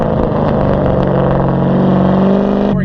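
A Chevrolet Corvette C7 sports car engine pulls hard while merging onto a freeway, heard close and loud from inside as a steady, rich droning roar that holds and then cuts off abruptly near the end.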